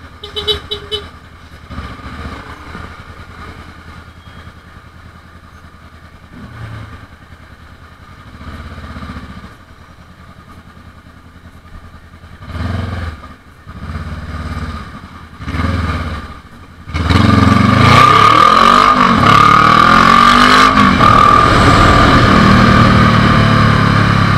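Honda CB500X motorcycle on the road heard from onboard, engine rumbling under intermittent speech, then a sudden loud surge of engine and wind noise in the final seconds.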